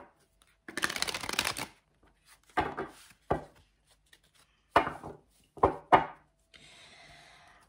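Tarot cards are shuffled by hand, a dense riffling burst followed by several separate sharp taps and slaps of the deck, close and fairly quiet.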